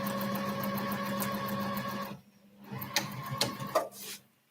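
A sewing machine runs steadily and close by for about two seconds while sewing the bottom onto a Faithwell bag, then stops, followed by soft rustling and handling of the fabric.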